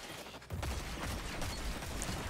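Gunfire in the video game Destiny 2, a sudden burst of dense, rapid shots that starts partway in and keeps rattling steadily to the end, loud and close with no talk over it.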